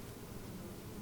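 Bees buzz in a dense, continuous hum that fills a brief moment, steady and fairly close with no other sounds.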